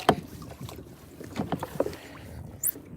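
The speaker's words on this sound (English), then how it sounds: "This boat's making waves." A passing boat churns the water on a snapper fishing trip in the Redlands, giving an uneven wash of splashes and rushing water with gusts of wind across the microphone, moderately close and without speech.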